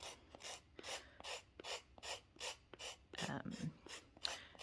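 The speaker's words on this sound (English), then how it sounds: "sharp emery board, so it should, like a coarse one, sorry, so it should cut it reasonably easily" A coarse emery board files with repeated downward strokes, about ten rhythmic raspy scrapes close to the mic, with a soft voice murmuring briefly near the end.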